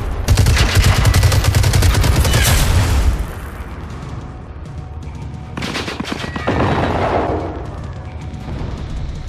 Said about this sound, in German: ich höre die Schüsse so nah